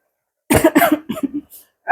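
A close, quick run of several harsh coughs, with a final cough after a short pause.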